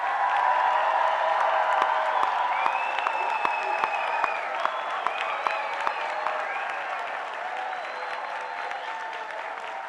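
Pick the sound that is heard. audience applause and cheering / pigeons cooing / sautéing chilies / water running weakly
audience applause and cheering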